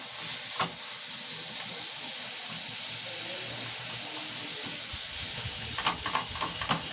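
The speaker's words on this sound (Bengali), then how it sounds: "পেঁয়াজ দিয়ে একসঙ্গে এগুলোকে একটু ভালো করে ভেজে নেব" Onions frying in oil with whole cloves, cardamom, chilies and cinnamon, giving a steady close hiss and sizzle with a few brief stirring clatters near the start and end.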